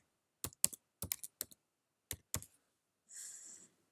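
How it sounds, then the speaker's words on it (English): Several quick key clicks in separate bursts as a password is typed on a computer keyboard, close and clear in a quiet room, followed by a short soft rustle. "I type in my password."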